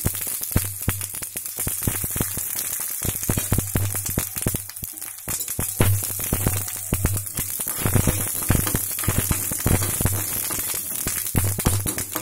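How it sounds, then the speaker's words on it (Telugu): Spice tempering of mustard seeds, cumin, dals, curry leaves and three dried red chillies crackles and spits in hot oil, a continuous close sizzle dotted with sharp pops over a low electrical hum. "పోపు చిట్పట్లు ఆడుతుంది కదా"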